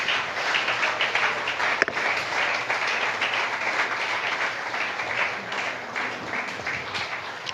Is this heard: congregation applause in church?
yes